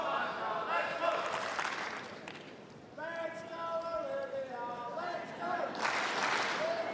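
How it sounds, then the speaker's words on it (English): Tennis crowd at a 2018 Melbourne women's match, a steady murmuring buzz with scattered clapping that swells into louder applause near the end, mixed with commentary voices throughout. "Crowd really trying to keep the buzz high here for her."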